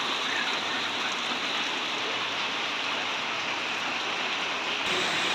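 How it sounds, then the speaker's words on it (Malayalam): Heavy rain pours steadily in a dense, even hiss that never lets up, with no voices over it. "നല്ല മഴ പെയ്യുന്നുണ്ട്"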